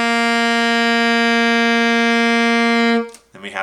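An alto saxophone holds a single steady G, loud and close, sustained for about three seconds before cutting off, followed by a brief voice.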